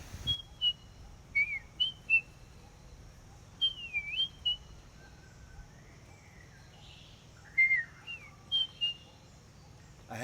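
A person whistling in imitation of a bird call, with short sliding, warbling phrases repeated in bursts with pauses between, clear and fairly close over a quiet outdoor background.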